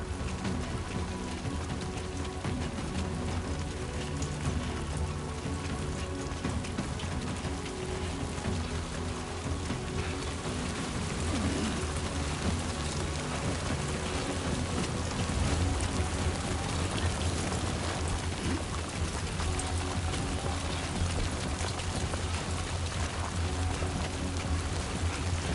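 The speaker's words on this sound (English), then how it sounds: "Look at this rain!" Heavy rain pours in the video game Death Stranding 2, a dense, steady hiss of drops on the ground that stays even and loud throughout with a low rumble underneath.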